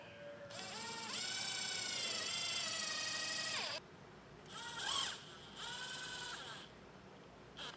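A power driver whines as it runs screws into the extrusion rail of a Solera slide-out RV awning on a 2021 Winnebago Minnie. One long, rising motor burst is followed by several shorter ones, nearby and fairly quiet.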